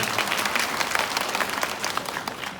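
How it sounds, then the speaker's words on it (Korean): Dense, continuous audience applause fills a hall during a high school admissions briefing, many hands clapping at once at close range, steady and loud for the whole stretch with no voices over it. "박수 치고 할까요?"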